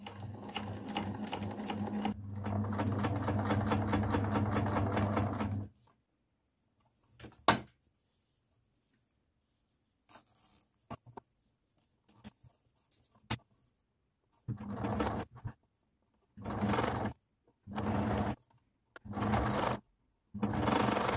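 A sewing machine stitches an inset zip: a steady loud run of a few seconds, then silence broken by a single knock, and later several short stitching bursts spaced a second or so apart.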